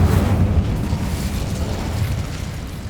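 The Incendio fire spell cast in the video game Hogwarts Legacy, a loud sustained roaring whoosh of flame with a deep rumbling body that stays steady for about three seconds, with no voices.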